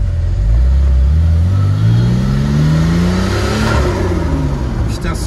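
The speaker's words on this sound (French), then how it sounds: "Putain, ce bruit de turbo, mais c'est... magnifique" A Venturi 400 Trophy's 408 hp turbocharged engine revs hard, rising and falling in loud sweeping pitch with a whooshing turbo whistle, heard up close from inside the car.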